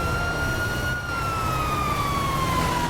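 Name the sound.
ambulance siren in a video game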